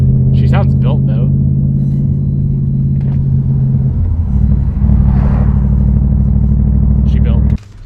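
Supercharged BMW M3 engine rumbling steadily while driving, a loud continuous low drone with a brief surge in the middle, cutting off sharply at the end; people talk over it early on.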